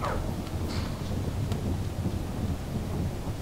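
Stormy weather in the video game Skyrim, a steady roar of wind and rumbling thunder with rain-like hiss, continuous and fairly loud throughout with no voices.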